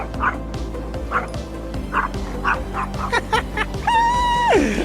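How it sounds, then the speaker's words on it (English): Several dogs scuffling in a dog fight on a Portuguese Camino walking route, with repeated sharp barks and yips that rise into high-pitched yelping and whimpering, fairly close and loud. "oh, dog fight."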